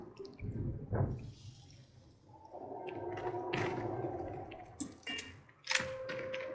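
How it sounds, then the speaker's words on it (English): Footsteps slosh and splash through shallow water in the video game Starfield, a run of wet, irregular thuds and drips that carries steadily over a low ambient game backdrop. "Oh, I'm walking in water."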